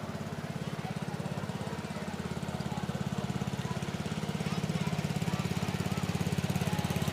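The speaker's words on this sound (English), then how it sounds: "We have a model tractor coming through here. A 1967 Alice Chalmers Model B110." A 1967 Allis-Chalmers Model B110 tractor chugs past in a Fourth of July parade in Waupaca, Wisconsin, a steady rapid putter that grows louder as it nears.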